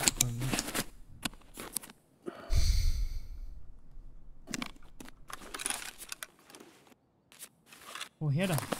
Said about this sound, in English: I hate my guy breathing this loudly.